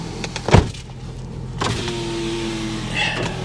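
Electric power window motor on a 2009 Dodge Challenger SRT8 whirring steadily as the glass travels, preceded by a sharp click or thump, close and fairly loud inside the car with a faint idling hum beneath.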